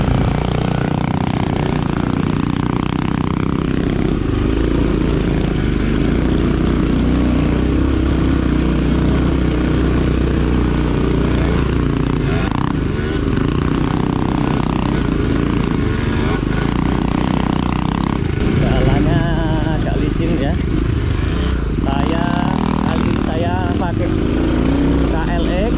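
Four-stroke automatic mini trail motorcycle engine running continuously on an off-road trail, a loud steady drone with some revving shifts throughout, while people talk over it.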